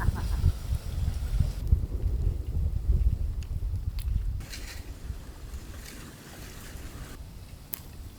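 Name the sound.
wind blowing outdoors in the village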